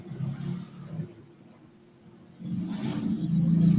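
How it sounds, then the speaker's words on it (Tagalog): A motor tricycle rumbles along a roadside, its engine growing louder as it nears and passes, heard alone without talk. "May tricycle."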